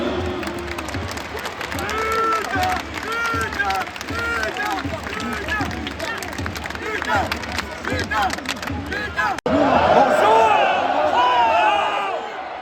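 A stadium crowd at a French Ligue 2 football match applauds as a player is substituted off, sustained broad clapping and crowd noise, with a loud thud near the end followed by louder voices.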